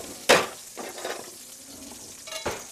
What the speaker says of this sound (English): I really want to turn that heat down now because I don't want the pancetta to get too brown